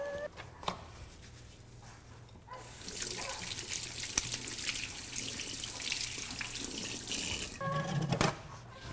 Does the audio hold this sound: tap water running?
yes